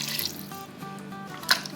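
Water is poured into an Instant Pot holding mutton and potato curry, a short trickling splash with small drips, fairly close and quiet, ending in a single brighter plop.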